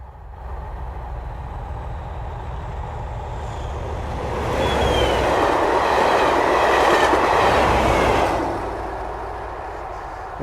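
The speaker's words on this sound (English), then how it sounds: "Oh, here it is, it's now coming." A train passes along the track, rising from a steady rumble to a loud, close roar of wheels and cars with clickety-clack and faint squeal, then easing back as it goes by.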